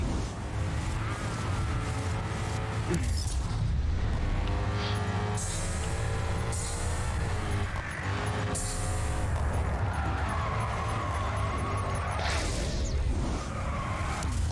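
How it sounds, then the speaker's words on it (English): A race car in GRID 2 drifts and skids with loud, sustained tire squeal over a shifting engine whine, sliding through repeated corners with no voices. "I can't hold a drift!"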